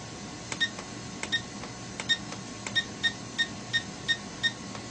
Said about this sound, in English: So we get the beeps